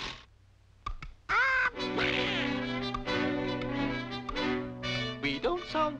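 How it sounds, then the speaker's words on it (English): A cartoon duck quacks and squawks in a lively, raspy vocal burst in a 1945 animated film, preceded by short clicks and followed by a stretch of busy, chattering duck noise. "We don't sound very busy down there, do we, Mr. Duck?"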